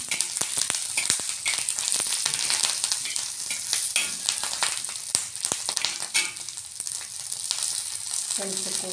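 Green chilies fry in hot oil for a brinjal bajji, a continuous close crackling sizzle broken by sharp pops and occasional stirring scrapes.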